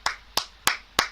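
Four separate claps, sharp and evenly spaced about a third of a second apart, from players at the end of a Brookhaven game fireworks evening, close and alone with no talk.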